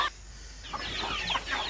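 Poultry fed a fermented banana-stem and bran mix cluck softly in a few short, faint bursts at close range, with no voices.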